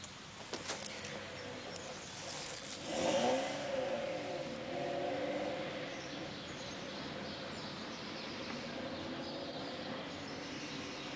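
A car engine revs up loudly in a single surge, then settles into a steady idle drone that continues for several seconds, with faint bird chirps in the background.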